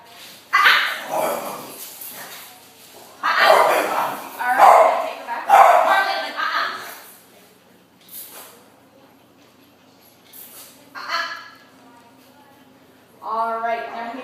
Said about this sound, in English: then you can see how he does go after a dog